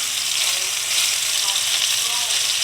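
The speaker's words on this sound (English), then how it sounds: "Gonna drop the bacon in, sear all the sides" Bacon-wrapped, cream cheese stuffed backstrap searing in a hot pan, a loud continuous sizzle and crackle of frying fat filling the whole stretch.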